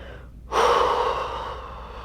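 A sharp intake of breath and then a long, steady exhale, breathy and close, held as one slow deep breath during a shoulder flexion mobility class.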